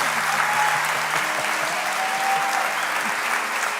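A church congregation applauds, a steady mass of clapping with faint held musical tones underneath, continuing evenly from start to finish.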